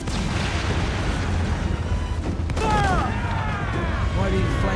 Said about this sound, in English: Okay, we need another mortar hit.